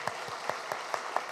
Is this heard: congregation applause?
yes